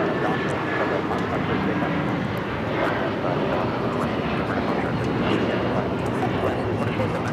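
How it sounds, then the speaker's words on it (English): A United Airlines Boeing 757-300 takes off at LAX, its engines producing a loud, continuous broadband roar that holds steady throughout without much change. "This is United Airlines, excuse me, 1981, taking off to Newark on the 757-300."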